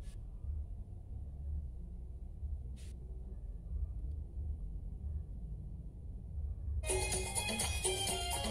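Music from an old mini compo system fed by a Bluetooth MP3 module starts near the end, bright and full after a long stretch of low hum and a brief click.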